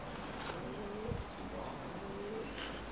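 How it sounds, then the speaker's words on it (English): Pigeons inside an abandoned hippodrome and theatre give a few soft, low coos. The calls sound faint over a hissy background, and nobody speaks. "Good pigeons."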